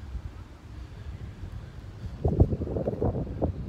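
Wind gusting across an empty Lake Michigan beach near Frankfort, Michigan on a mild summer day, a steady low rumble on the microphone that grows stronger and more buffeting in the second half, with no voices.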